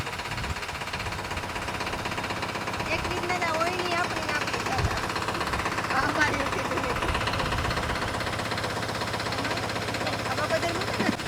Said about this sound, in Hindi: नया ट्रैक्टर से मूंगफली की शुरुआत कर रहे हैं लगाने की।